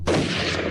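A single loud, close M16 military rifle shot cracks out and rings briefly, heard alone with no voices.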